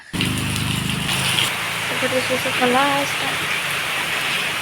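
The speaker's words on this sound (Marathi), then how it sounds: "पाऊस सुरू झाला" Steady patter and hiss of rain on a surface, with a low engine hum at the start and a voice speaking under it midway.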